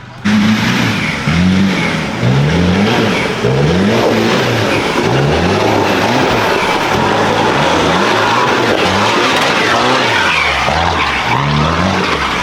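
A loud off-road truck engine revs up and down repeatedly, roaring close by with rising and falling pitch over continuous rumble.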